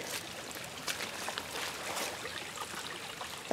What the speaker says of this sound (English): it sounds like a little creek going right now